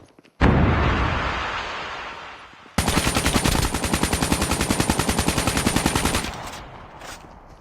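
Automatic gunfire in a squad-based shooter video game: a loud roaring blast first, then a long steady burst of rapid, evenly spaced shots for about three and a half seconds before it stops abruptly.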